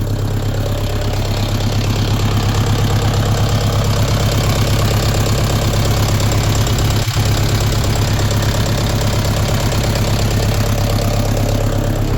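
A 2022 Lovol diesel tractor engine revs loud and close with a steady, rumbling throb, a single sharp knock cutting through partway in.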